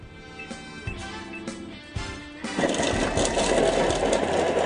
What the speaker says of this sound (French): Il suffit de mettre un oignon coupé en deux et une gousse d'ail à l'intérieur de la cuve et la machine va nous hacher ça menu